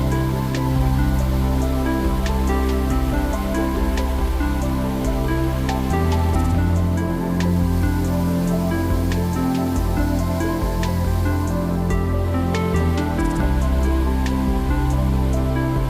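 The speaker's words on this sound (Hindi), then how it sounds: "फाइनली हम हमारे मेन वाटरफॉल पर पहुंच चुके और इस वाटरफॉल का नाम कपारी वाटरफॉल है" The Kapari waterfall near Gagangiri Maharaj Math in Khopoli gives a loud, continuous rushing roar of falling water, with no voices.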